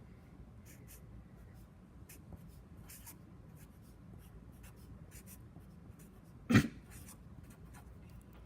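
Pen writing a balanced chemical equation on paper, heard as faint, steady scratching strokes close to the microphone, with one brief louder bump near the end.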